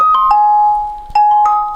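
Brief electronic test tone from speakers on a computer's onboard sound card: a steady pure beep that shifts slightly in pitch, with faint clicks at the start and in between, close and clear.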